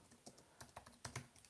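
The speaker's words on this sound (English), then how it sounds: "I'm typing in the chat." Typing on a computer keyboard, a quick uneven run of light key clicks close by, faint and with no talking.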